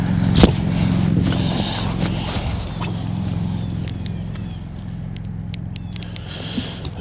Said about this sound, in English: let's see if this motor works